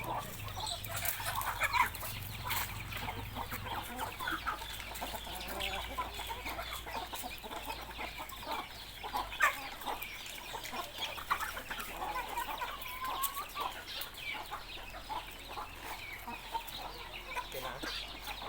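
Free-range pet chickens cluck and chatter while being fed, a busy, continuous mix of short calls from several birds close by, with no talk.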